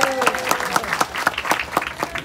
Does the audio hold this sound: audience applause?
yes